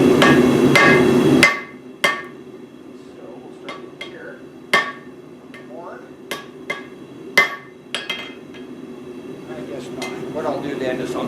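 A top puller swung as a hammer strikes metal being shaped, giving about a dozen sharp, ringing blows at uneven intervals. The blows follow a short burst of loud, steady workshop noise, with a low hum continuing underneath.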